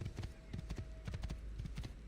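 Horse hooves clip-clop at a steady trot in the video game Assassin's Creed 2, the close, hollow knocks repeating over a low ambient hum.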